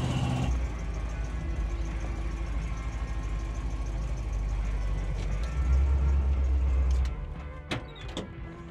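An International Harvester Scout II truck drives along a street with a steady, loud engine and road rumble throughout, then a few sharp knocks and clunks near the end as it slows.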